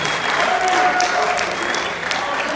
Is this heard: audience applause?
yes